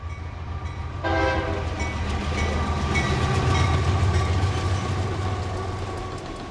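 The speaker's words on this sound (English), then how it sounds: "Sometimes we have 120 trains a day through here, all varieties, coal trains, cargo trains, container trains, trailer trains, and tank trains" Freight train passing through Rochelle Railroad Park, a busy rail junction: a sustained horn blast sounds over the steady heavy rumble and clatter of rail cars rolling by, fairly close and loud, with no voices.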